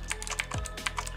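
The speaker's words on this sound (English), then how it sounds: "I almost hate the loud clickety clack sound of this keyboard" Rapid, crisp clicking of an E-YOOSO K600 retro mechanical keyboard being typed on, uneven bursts of sharp clacks close up with no voices.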